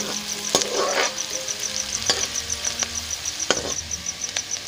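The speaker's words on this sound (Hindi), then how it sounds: "देखिए हम इसको सुनहरा होने तक, गोल्डन होने तक इसको फ्राई करेंगे।" Onion frying in a pan for a spiced yogurt potato curry gives a steady close sizzle with a bright hiss, broken by occasional clicks and light stirring scrapes.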